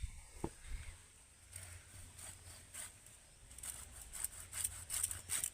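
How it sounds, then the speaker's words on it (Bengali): Lemon peel is rubbed against a grater in faint, rhythmic scraping strokes that grow quicker and more regular toward the end. "এই খোসাগুলোকে গ্রেটারের সাহায্যে গ্রেট করে ছাড়িয়ে নিতে হবে"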